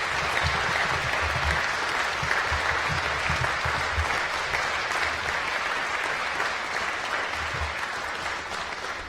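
A graduation ceremony audience at Ulster University in Coleraine gives sustained, loud applause, a dense continuous clapping from a large crowd that fades slightly toward the end.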